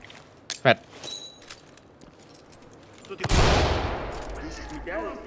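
Gunfire in the tactical shooter Ready Or Not: a sharp burst of shots and a loud, sustained crackling volley with rumbling echo, near and heavy, with scattered voice sounds before it.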